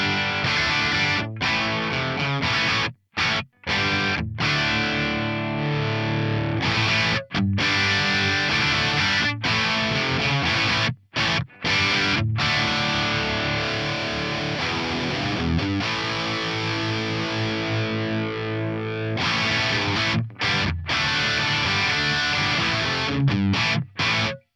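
Heavily distorted electric guitar through an amp modeler morphing between three amp channels, Superclone-style overdrive, plays continuously with a saturated, driven tone, broken only by a few brief gaps between phrases.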